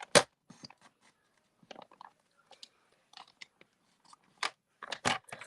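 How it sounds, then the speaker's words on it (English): Scissors trim a paper die cut in short, sparse snips and crisp paper crunches, quiet and close, with silent gaps between cuts. "I may have to use my scissors a little bit to do some trimming."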